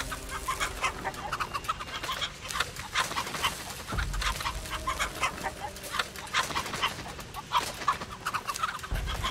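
Repeated chicken clucking from The Texas Chain Saw Massacre video game, loud and close, with rapid, choppy clucks and squawks running continuously over game noise.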